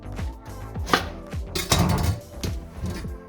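A kitchen knife chopping through a head of cabbage on a cutting board, a series of crisp, close thuds at an uneven, unhurried pace, each with a crunchy crackle of leaves, with no talking.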